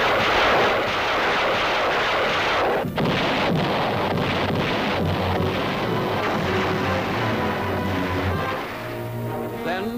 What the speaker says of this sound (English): First, the bombardment.